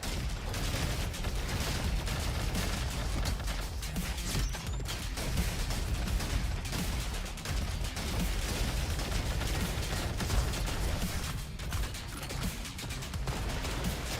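Rapid continuous gunfire and mechanical clatter in the shooter game Gunfire Reborn, dense and fast-paced with no pauses, loud and busy from start to finish.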